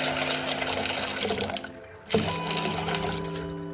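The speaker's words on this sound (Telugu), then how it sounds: "ఇదిగోండి, వాటర్ కూడా పోసేసుకుందాం" Water poured from a tap or vessel into a cooking pot, set to boil for a masala dish, fills it with a loud, continuous splashing rush; the pitch of the fill rises as the level climbs, a brief pause interrupts it, and no one speaks.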